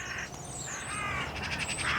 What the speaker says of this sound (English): it came back with a second crow